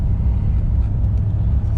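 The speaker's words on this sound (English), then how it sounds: "UPS truck." A UPS delivery truck passing by, a steady loud low rumble of engine and road noise throughout the short moment.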